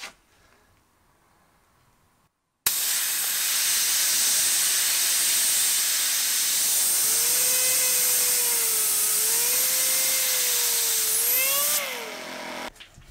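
Homemade micro turbine driven by compressed air at 150 PSI spinning up abruptly after a quiet start, a loud steady hissing roar with a whine that wavers and climbs, then cuts off near the end.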